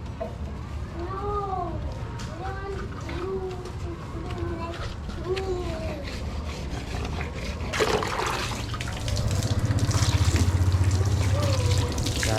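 Water trickles and splashes steadily while a child rinses a motorcycle during a wash, growing louder toward the end, with a cat-like cry and chatter heard early on.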